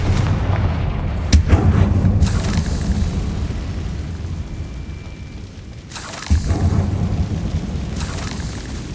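The Confringo explosive spell in the video game Hogwarts Legacy: a loud, sustained rumbling blast that drones for several seconds, with a sharp crack near the start and a second heavy burst later, no voices.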